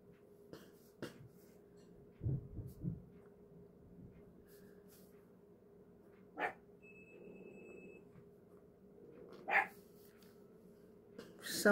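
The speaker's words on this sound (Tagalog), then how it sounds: "Nagbabark yung aking aso." A dog barks a few times indoors, short sharp yaps scattered across a quiet room with long pauses between them.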